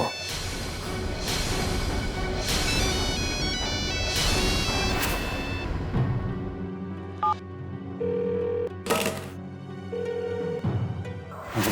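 A phone call to dad rings out unanswered, with short repeated ring tones toward the end after louder background music fades.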